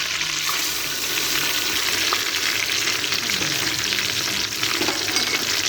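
Whole spices and garlic paste frying in hot oil for beef dagi korma, a steady dense sizzle close up with faint stirring throughout and no voices.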